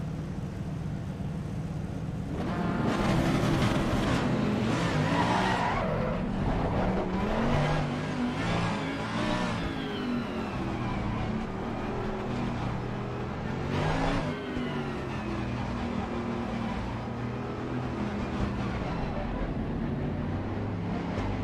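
A race car in the Assetto Corsa Competizione racing game, its engine droning and revving steadily and loudly throughout, with rising and falling pitch as it accelerates.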